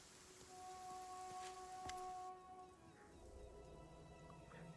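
Steady rain falling in the fantasy video game Pathfinder Kingmaker, a soft continuous hiss with faint tonal ambience, dropping slightly in level partway through.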